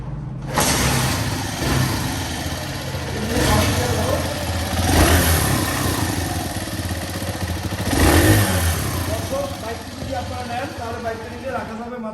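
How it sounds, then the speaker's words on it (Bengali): A Suzuki Hayate motorcycle with self start, in fresh condition, runs with a steady mid-pitched engine drone that swells twice as it is revved. Voices talk over the engine throughout. "স্টার্ট একটু দেখাতো স্টার্ট কি দেখাতো"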